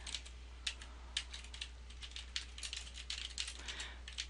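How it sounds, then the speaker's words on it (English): Fingers type a note on a computer keyboard, a steady run of light, crisp key clicks with uneven rhythm, close and fairly quiet over a faint background hum. "type in a note in my email"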